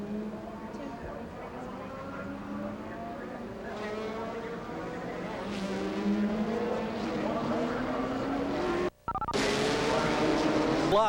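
IMSA race cars in the 1987 Grand Prix of Palm Beach, Florida circulate under caution, a steady drone of engines rising and falling as cars pass, with a commentator talking over it and a brief dropout near the end.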